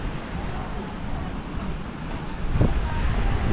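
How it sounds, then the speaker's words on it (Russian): Steady hot wind buffets the microphone with a broad rushing roar at Iskra beach in Vardane, growing slightly stronger toward the end. "Какой горячий ветер дует."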